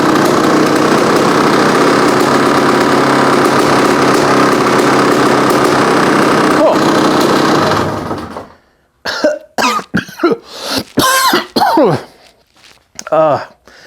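A CR500 two-stroke dirt bike with an eBay carburetor runs loudly and steadily for about eight seconds, then cuts out, followed by coughing and talking nearby.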